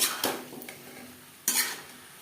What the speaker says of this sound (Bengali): হাই টু মিডিয়াম ফ্লেমে 2-3 মিনিট নাড়াচাড়া করে নেব।